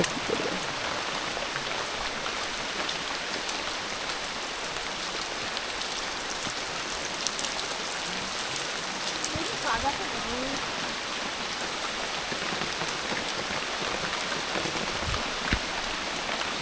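Continuous heavy rain pours steadily, a dense even hiss of drops on surfaces with no pause, near and loud throughout.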